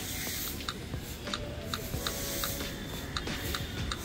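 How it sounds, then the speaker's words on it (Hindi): Rapid camera shutter clicks from a Lava Yuva 3 phone taking photos in quick succession, a string of short sharp ticks at an irregular fast pace over steady background hiss, fairly close and fairly quiet. "आवाज़ से तो लग रहा है कि काफ़ी फास्ट फोटोज क्लिक कर रहा है"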